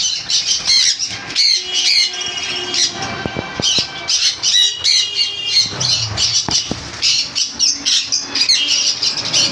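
A pair of semi-adult sun conure parrots squawk repeatedly, loud harsh calls coming in quick irregular bursts close by throughout, with no talking.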